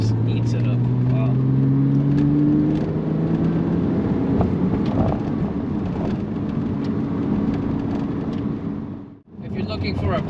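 Porsche 987 Cayman S sports car taking a slow, tight turn, its engine a steady loud drone with rising tones early on, heard from inside the cabin before a brief dip near the end.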